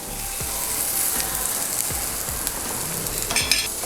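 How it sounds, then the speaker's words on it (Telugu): Onions and curry leaves fry in a pan for an okra (bhindi) fry, a close, steady hiss of sizzling oil with a few stirring scrapes and no voices. "ఈ ఆనియన్స్ అనేవి కొంచెం మెత్తబడికే వరకు ఫ్రై చేసుకుందాము"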